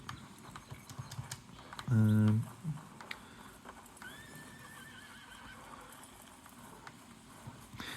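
A horse whinnies loudly in a short burst, with hooves clip-clopping among quieter game sounds and faint talk, in the video game Red Dead Redemption 2.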